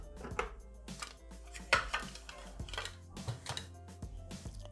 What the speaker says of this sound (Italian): Posizioniamo la farfalla sulle lame.